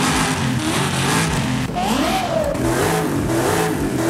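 A Toyota with a swapped diesel engine in Forza Horizon 5 revs loudly and close, its engine note climbing and falling in steady surges.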